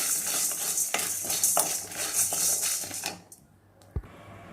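Curry leaves and a pinch of asafoetida roast in a hot pan, a steady broadband sizzle with scraping and stirring clinks of a utensil, then the frying dies down abruptly near the end, leaving a single sharp tap.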